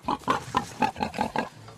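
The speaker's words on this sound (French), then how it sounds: "Eux élèvent ici des porcs de race corse" Corsican breed pigs grunt close by in a quick series of about seven rhythmic, evenly spaced oinks that fade out at the end.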